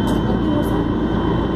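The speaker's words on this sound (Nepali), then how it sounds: "हेलिकप्टर हेर ठुलोको आवाज हुन्छ नि त कति ठुलो छ हेलिकप्टर है" Helicopter at a Nepal Army Day event, a steady, loud rotor and engine roar filling the scene, with no clear speech over it.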